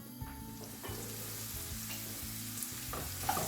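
Chopped onion fries in a pan for pasta sauce, a steady close sizzle with soft stirring scrapes and a low background hum, no voices.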